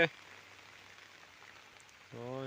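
Soft, steady rain falls outdoors in a rural area where grass is being cut for cattle, a faint continuous patter with a voice beginning at the end.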